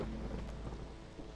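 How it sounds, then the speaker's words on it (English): Thunder and rain from the colony-building video game Against the Storm make a low, steady rumble with a wash of rainfall, fairly quiet and sustained, with no voices. "Here comes some rain, a storm,"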